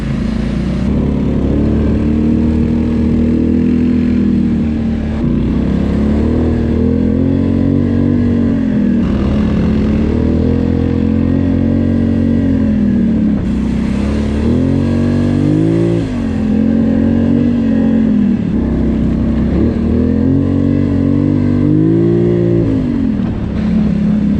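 A Polaris Sportsman ATV engine rises and falls on a winter trail ride, loud and close, with repeated throttle swells and dips in pitch as it climbs, and no talking.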